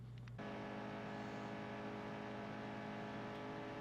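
A NASCAR race car starting a qualifying lap at Daytona in NASCAR Heat 2 holds a steady high-pitched engine drone at speed, loud and continuous after a brief opening shift, with no talking.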